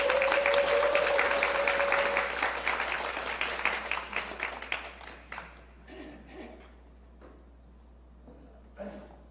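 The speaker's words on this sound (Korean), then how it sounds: "박수 쳐주셔서 너무 고맙습니다" A church congregation at a Sunday service applauds steadily, then the clapping thins out to scattered claps and fades, with a few faint voices near the end.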